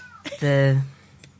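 A house cat gives one clear, close meow, a short rising and falling call lasting under half a second, with faint background sounds around it.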